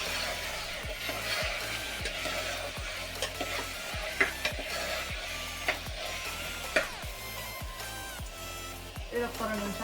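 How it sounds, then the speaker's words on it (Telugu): Cut potatoes fry in a pan while being stirred, a soft steady sizzle with scattered clicks and scrapes of the spoon, partly buried under rhythmic background music. "ఇది ఒక 2 నిమిషాలు ఫ్రై చేద్దాం"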